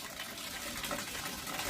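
Water gushes steadily for a bath, a continuous, moderately loud rushing stream filling the short moment without any voices.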